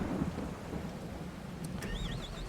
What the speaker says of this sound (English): so we'll just have to wait for the rain to cease.